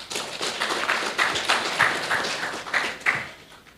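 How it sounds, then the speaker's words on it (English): Audience applause for a professor at a technology conference, a steady wash of many hands clapping at moderate loudness for several seconds with no speech over it. "Okay, applause for Professor Celia Shahnaz."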